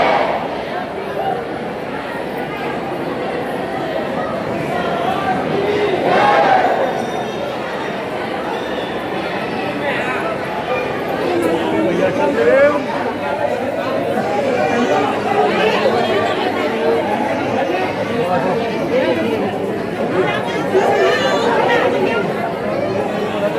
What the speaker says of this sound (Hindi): आप लोग सबसे पहले भीड़ देखिए।